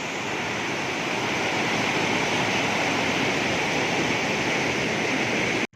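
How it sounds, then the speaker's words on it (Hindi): Loud, steady rush of water pouring continuously through an irrigation canal at Mianwali Banghla, Pakistan, a dense roaring wash with no voices, cutting off abruptly at the end. "पानी, इसकी गूंज, इसकी आवाज़"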